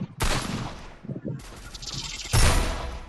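Rapid bursts of gunfire from a Free Fire battle-royale match, loud and close, with a sharp volley near the start, a sustained rattling burst midway and another heavy burst near the end.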